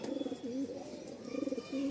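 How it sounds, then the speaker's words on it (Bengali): Madrasi pigeons in a loft give soft, repeated throaty coos in short rolling phrases. The calls are close and fairly quiet, with a light hum behind them. "এগুলো সব বিড়াল পায়রা,"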